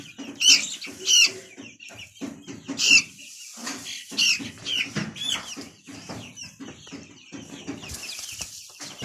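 Light Brahma chickens cluck and squawk nearby in short, repeated bursts, with occasional higher calls and some rustling in between.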